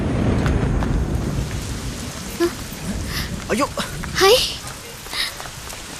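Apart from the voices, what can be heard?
rain and thunderstorm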